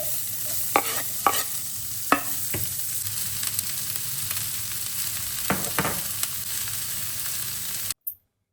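Mustard seeds, cumin, urad dal, chana dal and dried chillies crackle in hot oil for a South Indian tempering. A steady close sizzle carries a few sharp pops and spatula scrapes, then cuts off abruptly.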